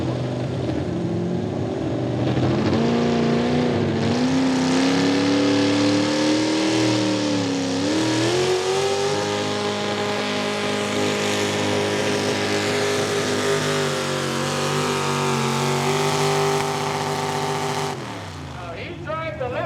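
Chevrolet-powered Hot Rod V8 pulling tractor at a truck and tractor pull in Lisbon, Ohio roars loudly and steadily for about eighteen seconds, its engine pitch climbing and bending under load before cutting off abruptly.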